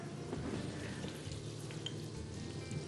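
Butter melting and sizzling in a pan while cooking a traditional Albanian fërgesë with cheese and cornmeal, a soft, steady crackling hiss that stays fairly quiet and even, with faint clinks from the kitchen.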